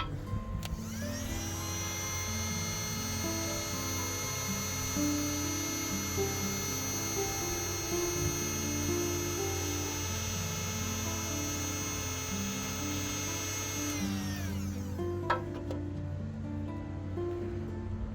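A hot-air tool heat welding Easytabs plastic tabs onto an Easycare hoof boot sole gives a steady loud whining drone with a high tonal whistle, running continuously before winding down near the end.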